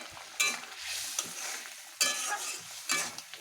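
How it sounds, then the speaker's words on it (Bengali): Spice paste with tomato fries and gets stirred in a pan for a Bengali katla fish curry, soft sizzling under repeated scraping strokes of a spoon, close and moderately quiet. "মশলাটা একটু কষে যাক। একটু টমেটো দিয়ে দিলাম।"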